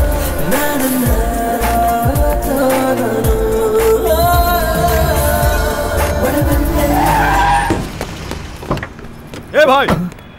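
A car skids with loud, drawn-out tire squeals in a dubbed South Indian action movie scene, the screech sweeping through the first seconds before fading, with brief speech and sharp effects afterward.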